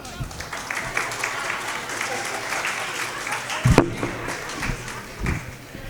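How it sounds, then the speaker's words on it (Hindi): Audience applause at a Hindi kavi sammelan poetry recital in Sambhal: a dense, steady clatter of clapping that fills the whole stretch, with one sharper thump partway through. "ताली बजाओ भाई।"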